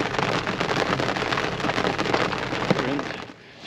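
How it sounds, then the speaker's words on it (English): Heavy rain pours outdoors, a loud, dense, steady hiss of drops pattering on surfaces, close and continuous before it briefly fades at the very end. "It's been raining for, I don't know, probably a good half an hour right now."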